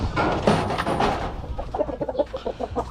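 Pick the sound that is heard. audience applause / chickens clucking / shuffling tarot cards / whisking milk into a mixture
chickens clucking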